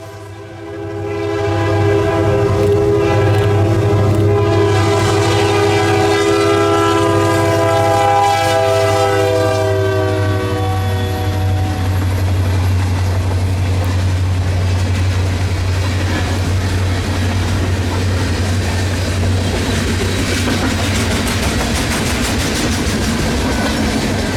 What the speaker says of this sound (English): this locomotive would be the very last GP locomotive to be built by EMD